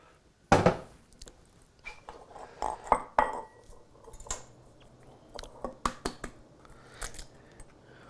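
A fork or whisk clinking against a bowl as an egg is beaten lightly, irregular close taps and scrapes in short bursts with quiet gaps, no talking.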